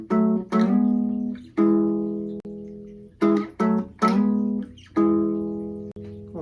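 Baritone ukulele picks a finger-style chord riff from a song, ringing plucked chords in a repetitive rhythm with short gaps between phrases, close and clear, with no talk.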